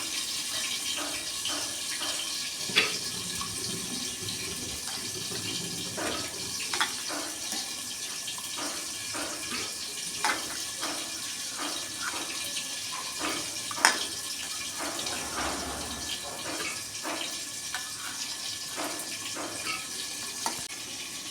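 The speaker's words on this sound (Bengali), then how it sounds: "জল দিচ্ছি" Water poured into a pressure cooker over soaked chana dal (split chickpeas) in a home kitchen, a steady soft wash of flowing water with small clinks and splashes throughout, fairly quiet with no talking.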